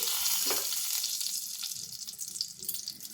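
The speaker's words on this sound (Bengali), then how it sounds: "বড়ি ভাজা তেলটাতে আমি একটা দুটো পাঁচ তেজপাতা দিয়ে দিচ্ছি" Five bay leaves dropped into hot oil left over from frying lentil dumplings, hissing in a dense, close, continuous sizzle that softens slightly toward the end.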